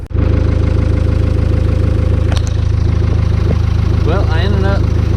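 A New Holland TL90 tractor engine idles with a steady, loud, low diesel throb and rhythmic knock, running alone throughout with brief faint clatters over it.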